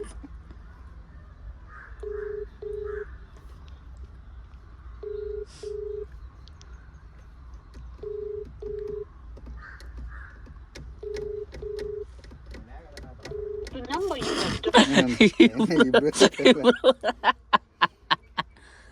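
A phone line rings back in repeated paired tones at a steady rhythm, followed by a noisy burst of laughter and chatter.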